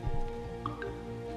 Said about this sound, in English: using the rain effect is actually, refilling the water reservoirs